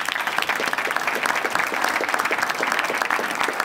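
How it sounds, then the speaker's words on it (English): An audience at a Hall of Fame dinner applauds with dense, steady clapping that holds evenly throughout, loud and close. "Give yourselves a round of applause for that."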